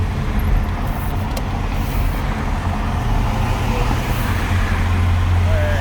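A Mini Cooper merges onto the 170 freeway in Los Angeles, its engine and road noise forming a steady low rumble inside the car, with a deeper drone building near the end while people talk.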